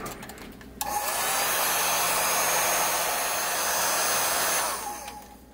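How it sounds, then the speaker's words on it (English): A hair dryer runs close and loud for about four seconds, forcing air over the plastic hull of a model ship, starting abruptly and tapering off at the end with no talking. "I'll get the hair dryer and I will force dry it."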